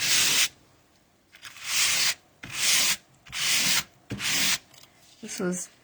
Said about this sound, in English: I'm going to actually take my sanding block over the top of it